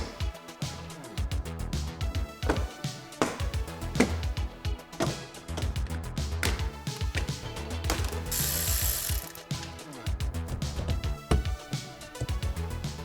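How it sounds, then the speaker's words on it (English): A ratchet wrench loosens the negative battery terminal on a C8 Corvette, its rapid clicking pawl running in repeated bursts close to the mic, with a few metallic taps and no talking. "We better disconnect the negative terminal on the battery."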